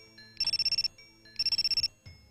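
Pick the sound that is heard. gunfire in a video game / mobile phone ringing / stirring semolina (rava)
mobile phone ringing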